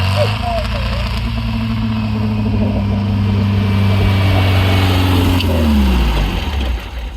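A dune buggy engine with a sticking throttle runs loud and close, holding a steady droning tone that rises and falls as it revs. A voice briefly sounds over the engine.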